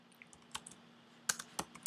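Short bursts of computer keyboard typing, a few isolated keystrokes and then a quicker cluster of clicks close to the mic, as a scene name is typed into a 3D program, with no one speaking.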